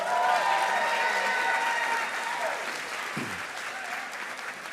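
An audience applauds classified staff honorees at a school district recognition celebration, a steady wash of clapping that stays full throughout and eases slightly toward the end, with faint crowd murmur and voices beneath.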